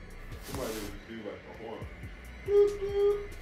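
A person imitates a train horn with a sustained, steady voiced tone near the end, following several seconds of speech.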